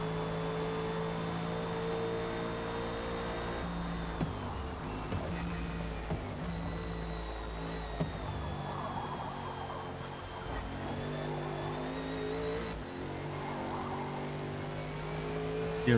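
A GT2 Vantage GTE race car engine in a racing video game, revving high and steady with a whining tone and brief dips at gear shifts, loud and continuous.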